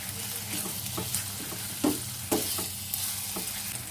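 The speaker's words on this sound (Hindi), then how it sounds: "चिकन को हम इतनी देर तक फ्राई करेंगे कि चिकन का गोश्त बिल्कुल वाइट हो जाए" Boneless chicken pieces frying in a hot pan, a continuous close sizzle with several sharp scrapes and knocks as the meat is stirred, no voices.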